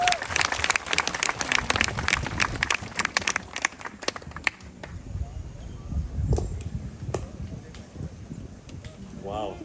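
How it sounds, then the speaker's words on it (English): A crowd applauds at a Brangus cattle show in Spanish Lookout, Belize. The clapping is brisk and scattered at first, then thins out into sparser claps as voices carry on over the arena's background. "Let's give the young ladies and the gentlemen a big round of applause and a good set."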